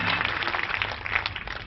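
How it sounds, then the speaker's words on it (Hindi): Audience at a Jain pilgrimage naming ceremony clapping hands together, a dense, steady wash of applause filling the whole moment without letting up. "हाथ ऊपर करके ताली बजाएं"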